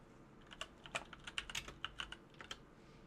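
Rapid, uneven keystrokes on a computer keyboard sit close to the microphone and come in crisp bursts of clicks, with no talking.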